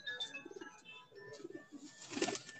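Pigeons kept on a rooftop loft cooing, several soft repeated throaty coos close by, followed by a brief louder rustle near the end.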